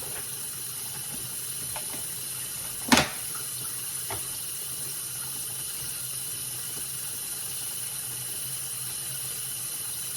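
Water runs steadily into a small portable mini washing machine, a continuous soft hiss of filling with one brief louder clunk partway through and a faint tap later.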